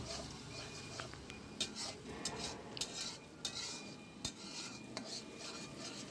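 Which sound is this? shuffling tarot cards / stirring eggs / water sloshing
stirring eggs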